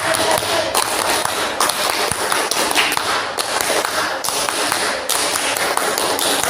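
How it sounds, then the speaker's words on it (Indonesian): A group performs the Indonesian scout clap (tepuk pramuka) twice: loud, quick patterned hand claps and taps by many people, tightly rhythmic with brief breaks between phrases, close and lively. "Kita akan coba 2 kali tepuk pramuka."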